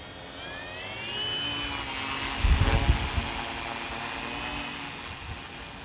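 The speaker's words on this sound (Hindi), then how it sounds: "तो गाइस अब हम ड्रोन को स्टार्ट करते हैं" Drone motors spin up into a steady buzzing whir with a rising whine, close and moderately loud, with a brief louder burst of thuds midway before settling back to an even drone.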